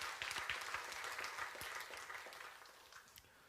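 A church congregation claps in praise during a Korean worship service, a fairly quiet, dense patter of applause that gradually fades out, with no voices over it.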